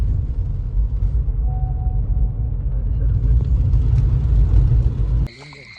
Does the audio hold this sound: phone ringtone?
no